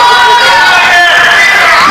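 A basketball crowd in a school gym erupts after a blocked shot, a loud, sustained roar and cheer filling the whole moment, with a voice audible amid the noise.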